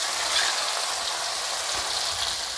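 Ground spice paste sautéing in hot oil in a wok as the base for a wild fern curry, a steady broadband hiss and sizzle that holds close and even throughout, with no voices.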